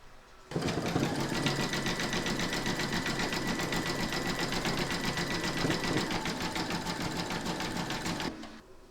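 An embroidery machine stitches a zigzag round that joins two appliqué pieces of a large double-sided Santa, a steady, fast mechanical chatter running for about eight seconds without pause and with no talk.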